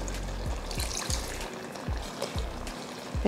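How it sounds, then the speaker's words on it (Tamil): Water is poured into chicken gravy cooking in a pan, a soft, close trickle and splash under faint background bubbling, lasting a few seconds. "அதனால இன்னும் கொஞ்சம் தண்ணி சேர்த்துருவோம்."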